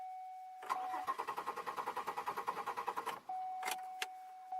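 A 2002 Chevy Malibu engine cranks without catching. About two seconds of fast, even starter pulses stop abruptly, with a steady warning chime tone before and after and a couple of clicks at the end.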